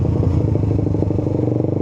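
A Suzuki GSX 150 motorcycle engine idles and rises slightly as the throttle is eased open at the clutch gripping point, a steady, close, pulsing rumble with fast regular firing beats and no talk.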